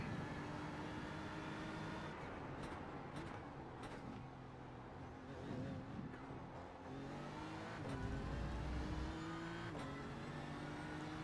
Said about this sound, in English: That is a Ferrari.